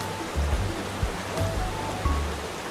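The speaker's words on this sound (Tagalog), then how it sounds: "So oh, ito yung pinaka-falls niya." Steady broadband rush of water at Pundakit Falls, a continuous wash with low rumble, moderately loud and unbroken throughout, no voices.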